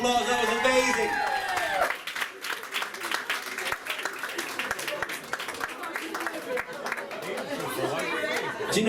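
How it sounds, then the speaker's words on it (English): Wedding guests clap and chatter in a busy room, applause and crowd murmur running steadily throughout after a burst of music at the start, with voices mixed in. "Give yourselves a round of applause, that was amazing."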